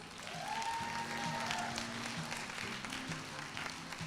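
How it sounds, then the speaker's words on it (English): Audience applause at a Miss Earth 2024 pageant event held at the University of the East, a dense, steady wash of many hands clapping at constant volume throughout, with faint voices and a background tone beneath. "Please give yourself a round of applause."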